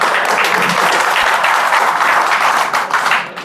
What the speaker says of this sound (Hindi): भाई एक बार तो ताली बजा दो भाई ने